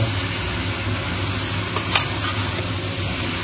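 Mutton and large potato pieces frying in a pan, a loud, even sizzle throughout with a brief scrape of stirring midway.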